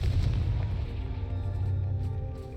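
Confringo explosive spell in Hogwarts Legacy, a booming blast with a deep rumbling tail and scattered crackles, loud at the start and tapering off over a couple of seconds.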